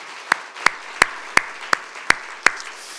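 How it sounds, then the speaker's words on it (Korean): A church congregation at a teachers' revival meeting claps in unison, seven sharp, evenly spaced beats in a steady rhythm against a quiet room. "우리 교사분들 지난 2년 동안 쉽지 않은 상황에서도 고군분투해 주셨는데 한번 박수를 해드리면 어떨까요?"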